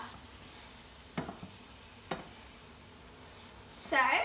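Seasoned carrot and celery frying in a pan make a soft, low sizzle broken by two utensil scrapes, then a brief louder burst of stirring near the end, heard close with no speech.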